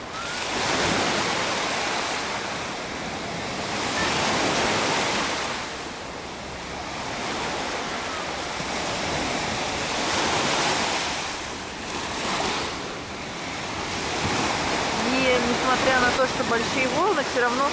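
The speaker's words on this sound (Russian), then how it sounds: "Большие волны" Big sea waves roll onto Incekum beach in Alanya, Turkey, a steady loud roar of surf that swells and recedes, with wind buffeting the microphone throughout.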